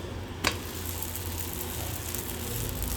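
A dosa just flipped on a hot pan gives a faint, steady sizzle, with a single short clatter near the start.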